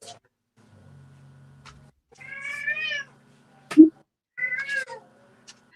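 A pet cat meows twice in clear, drawn-out calls, close by, with a short thump between them and a faint low hum earlier on.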